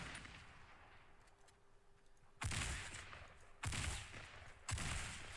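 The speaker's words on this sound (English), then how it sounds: "I just single fire the AR and it's real nice." In Fortnite, an assault rifle fires single shots: three sharp, loud cracks spaced about a second apart, following quieter game ambience.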